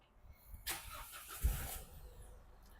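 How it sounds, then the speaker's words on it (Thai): The 1.9-litre diesel engine of a 2018 Isuzu D-Max four-door pickup cranks and catches with a short burst, then settles into a low idle, fairly close and with no talking. "อ่าเดี๋ยวมาสตาร์ทรถให้ดู"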